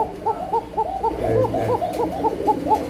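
Pigeons on a pigeon farm cooing nearby, a run of repeated soft rolling coos overlapping in a quick bouncy rhythm, close and fairly clear over a low background murmur.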